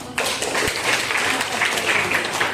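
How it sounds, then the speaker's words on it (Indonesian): A classroom of students claps hands together after a lesson on photosynthesis, a sudden burst of lively, continuous applause that stays close and fairly loud. "Tepuk tangan dulu."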